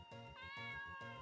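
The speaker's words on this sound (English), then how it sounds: "It's a cat." A cat in The Grey Garden video game meows three times in quick succession, close and clear, each call a drawn-out tonal mew with nothing else heard.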